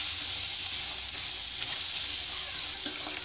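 Chickpeas being stirred in oil in a kadhai, a steady hissing sizzle with soft scraping of the mix, close and continuous throughout.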